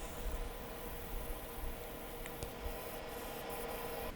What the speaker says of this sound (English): Starting to sand with 80 grit.